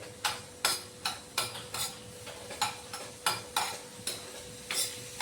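Garlic dropped into a hot pan on a home stove sizzles and crackles, with a steady run of sharp scraping clicks from a spatula stirring at a quick, regular pace, close by and fairly quiet.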